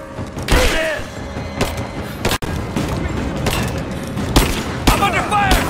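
Gunfire from a firefight in Rise of the Tomb Raider crackles in dense bursts with booming impacts over constant loud battle noise, while voices shout through the fighting.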